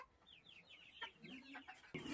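Hen clucking among chickens in a small bird zoo in Assam, a series of short chirpy calls at a steady pace, fairly faint, followed by a lower clucking phrase and a louder burst of noise at the end.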